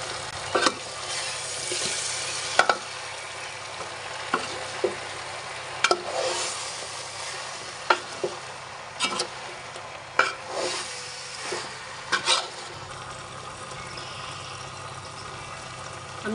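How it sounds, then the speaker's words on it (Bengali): Chalta (elephant apple) pickle with mustard is stirred in a frying pan, a soft steady sizzle broken by sharp spoon clanks against the pan every second or two, with no talking. "সরিষা দিয়ে আমি এখন আর একটু ভালোভাবে নেড়ে ছেড়ে দিব।"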